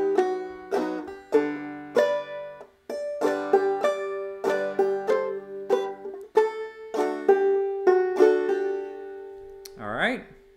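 Clawhammer banjo plays "Greensleeves" alone, with bright plucked notes and a steady brushed strum rhythm, close and fairly soft. A brief voice comes in at the very end.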